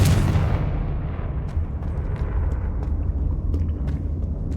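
A Confringo blasting spell detonates in Hogwarts Legacy, a loud rumbling burst that sets off a sustained low roar of explosive noise lasting several seconds, with faint crackles on top.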